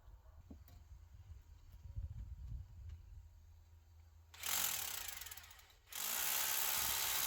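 A drill with a long bit bores into concrete foundation footings to make holes for rebar, first a low rumbling grind, then a loud, harsh whine that briefly drops off and resumes steadily.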